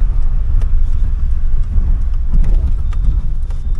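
Car driving along a road, heard from inside as a steady low rumble with irregular bumps and thuds from the road surface, continuous and fairly loud with no talk.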